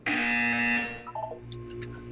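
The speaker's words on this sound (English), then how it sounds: "You will hear a buzzer." A buzzer in the Portal 2 video game sounds one loud, sustained electronic tone lasting under a second, then fades into softer scattered beeps over a low hum.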